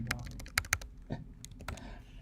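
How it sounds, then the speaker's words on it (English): Rapid keystrokes on a computer keyboard during a lecture, a burst of close, crisp clicks in an uneven rhythm over a low background hum. "that was a lot of typing"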